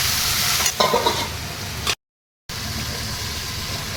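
Chopped vegetables with a little salt frying in a covered pan for labra make a loud, close, steady sizzle with a few stirring scrapes, briefly cut to silence midway.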